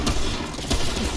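A short, rapid burst of gunshots in the video game Remnant: From the Ashes, sharp and fairly loud, with no voices during the brief volley.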